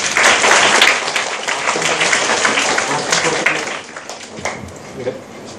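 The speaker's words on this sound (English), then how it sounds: "Give her a big clap." An audience gives a student a big clap at a seminar session, loud dense clapping at first that gradually thins and fades, with some voices mixed in.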